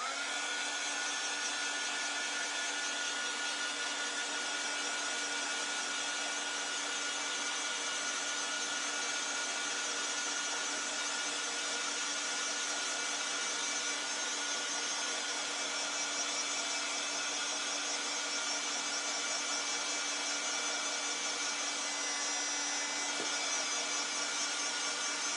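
A dryer blows a steady, unbroken whir while drying chalk paste on a craft block. It runs alone at an even level throughout.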